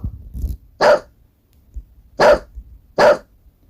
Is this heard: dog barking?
yes